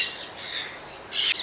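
Sun conure parrots at a Sunday bird market in Multan give shrill, bright squawks, one at the start and a louder burst near the end, close by with no talking.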